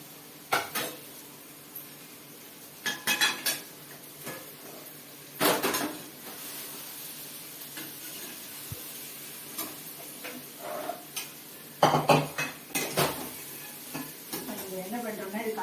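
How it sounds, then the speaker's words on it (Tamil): Cooled, separated cooked rice tossed in a pot for mango coconut rice, with scattered scraping and clinking of a spoon against the metal in irregular bursts, moderately close, no talking. "இந்த உதிரியா வடிச்சு ஆற வச்ச சாதத்தை இதில் போட்டு நம்ம நல்லா மிக்ஸ் பண்றோம்"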